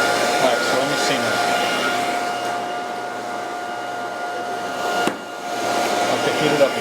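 A hot air tool blows continuously at close range while heating a knife, a loud steady roaring hiss with a brief dip near the end.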